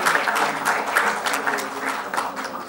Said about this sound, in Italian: Un caloroso applauso